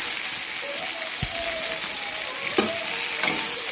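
Tomatoes and onion sautéing in a pan for chutney, a steady close sizzle and hiss throughout with a few soft stirring knocks from a spoon.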